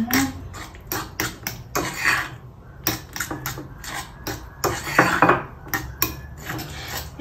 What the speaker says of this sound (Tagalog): Pero lagyan pa natin siya ng milk. Ayan, haluin natin siya.